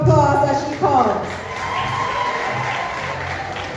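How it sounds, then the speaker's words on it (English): School career day audience breaking into a continuous wash of applause and cheering, loud at first behind a shouting voice, then settling into steady, even clapping. "Give her a round of applause as she comes."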